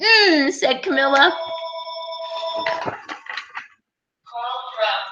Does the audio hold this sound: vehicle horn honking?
no